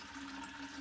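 Cocktail mixture for a clarified milk margarita pours into milk in a soft, steady liquid stream, faint and continuous.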